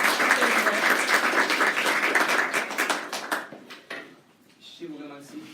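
Warm audience applause greeting a speaker at a conference in Paris, many hands clapping steadily before tapering into a few isolated claps, then a voice begins speaking.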